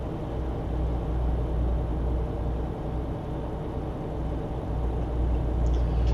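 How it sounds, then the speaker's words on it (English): A truck engine in Euro Truck Simulator 2, driving through Holland, hums as a steady, fairly quiet low rumble that holds an even level throughout without any voices. "I like this truck. I like the way it sounds. It's not loud. It's nice and quiet."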